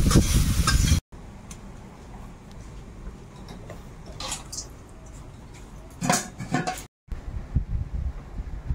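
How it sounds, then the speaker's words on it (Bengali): Prawns frying with turmeric and salt in a pan, with soft sizzling and scattered clinks and scrapes of a stirring utensil, broken by abrupt cuts. "হলুদ আর লবণ দিয়ে দিই, আর চিংড়ি মাছটাও দিয়ে দেবো। একসঙ্গে একটু নেড়ে চেড়ে ভেজে নিয়ে"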